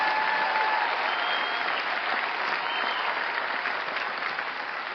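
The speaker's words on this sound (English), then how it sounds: "I know you're clapping" An audience at the 2024 Oscars ceremony applauds loudly and steadily, a dense wash of clapping that holds for several seconds.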